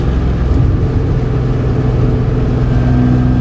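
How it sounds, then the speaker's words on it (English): A car engine pulls steadily under throttle in fifth gear, a low, smooth, continuous hum with little rise in pitch, heard from inside the car without talk. "If I floor it in 5th, it won't be happy."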